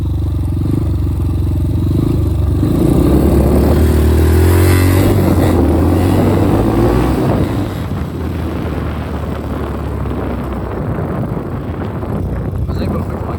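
A Magician 250 motorcycle accelerates hard through first and second gear, its engine note rising loudly and steadily with heavy wind buffeting the microphone and no talking.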